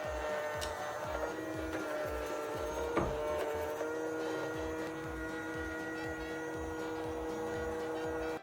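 A cheap mini robot vacuum cleaner runs continuously, a steady mechanical whir with a rapid repeating clatter and a faint hum, close by with no talking.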